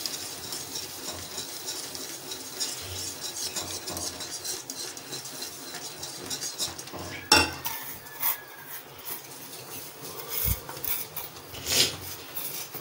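Semolina being stirred with a perforated ladle in a pan for vegetable kichadi, a continuous dry rasping scrape with a few sharper knocks of metal on the pan.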